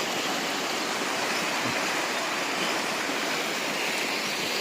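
A river swollen and flooded after three days of heavy rain rushes in a loud, steady roar of churning water that never lets up, with no voices over it.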